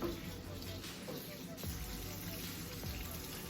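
A kitchen tap runs steadily while salmon is rinsed under it, a continuous close gush of water with faint handling knocks and no talk over it.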